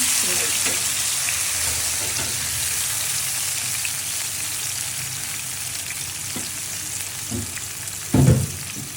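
Shawarma spice masala sizzles steadily in two spoons of hot ghee, a dense broadband fry that runs throughout, with a few soft stirring scrapes and a louder clatter near the end.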